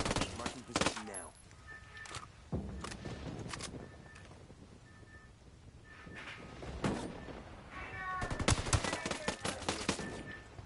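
Military video game firefight: scattered bursts of automatic gunfire and sharp impacts, some near and some farther off, mixed with radio-style voices and a denser volley toward the end.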